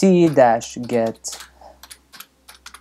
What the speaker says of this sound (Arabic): راح اروح على التيرمينال وراح اكتب السطر الثاني اللي هو sudo apt-get